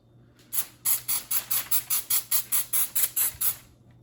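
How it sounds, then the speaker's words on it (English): Around a dozen quick hissing bursts of cooking spray onto parchment paper fire in an even rhythm, close and crisp, with quiet before and after. "I'm gonna spray it anyways"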